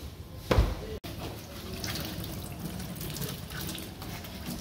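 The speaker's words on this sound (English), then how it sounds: "we're going to throw some water and let it soak for around 5 minutes" Water poured over peeled soursop fruit in a container to soak, a steady gurgling splash after a brief louder gush at the start, continuing close and unbroken.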